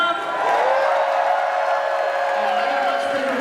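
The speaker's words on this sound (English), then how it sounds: "They got a much bigger round of applause than we do" Crowd at an Aliens reunion panel at Comicpalooza 2016 cheering and whooping, a loud sustained roar with a shrill voice rising above it, continuing throughout.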